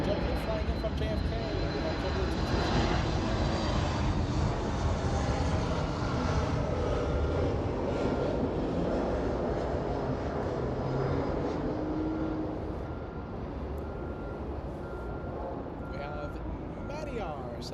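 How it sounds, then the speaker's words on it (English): A JetBlue airliner arriving at LAX from JFK on a sunny day, a loud broad engine roar close overhead that slowly fades and softens toward the end. "JetBlue flying in from JFK."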